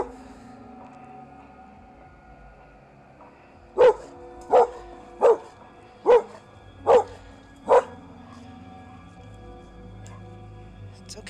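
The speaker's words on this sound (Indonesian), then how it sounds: "anjing TikTokers ini tuh jadi ketakutan dan selalu menggonggong ke arah sosok yang tadi" A dog in a forest area barks six times in a fairly even series of sharp, loud barks, preceded and followed by quiet background, with no voices.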